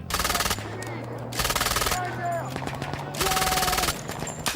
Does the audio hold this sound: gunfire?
yes